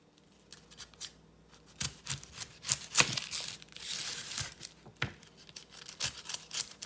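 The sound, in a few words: knife cutting and dicing a white onion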